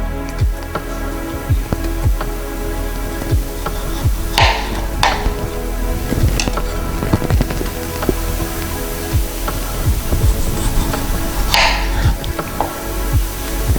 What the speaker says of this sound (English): My goal is to cut the potato as thinly sliced as